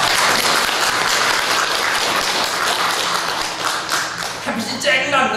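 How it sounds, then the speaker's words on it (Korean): A church congregation applauds loudly in a steady burst that thins out slightly near the end, where a voice briefly starts speaking over the fading claps. "박수 한번 칩시다."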